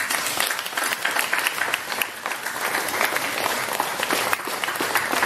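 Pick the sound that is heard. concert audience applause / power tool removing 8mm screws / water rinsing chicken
concert audience applause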